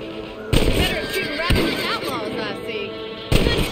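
Gunfire in Red Dead Redemption as rabbits are shot, with loud sharp cracks at irregular intervals over continuous game sound and excited voices.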